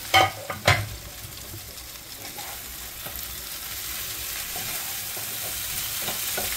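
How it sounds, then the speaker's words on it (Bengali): Fried cauliflower and potato pieces are stirred in a frying pan for a vegetarian Bengali dish. A couple of louder clanks open the clip, then a steady close sizzle of frying continues with light stirring scrapes. "এরপরে দিয়ে দিলাম ভেজে রাখা ফুলকপি আলুগুলো, দিয়ে আবার একটু নাড়িয়ে দিলাম।"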